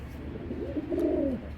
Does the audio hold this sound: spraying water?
no